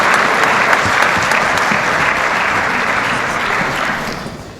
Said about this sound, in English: Let's have a nice warm round of applause for our judges